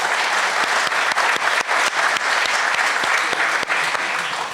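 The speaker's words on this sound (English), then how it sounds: "So give him a round of applause, Alex." A live show audience applauds steadily, dense crowd clapping with sharp individual claps standing out, sustained and fairly loud throughout.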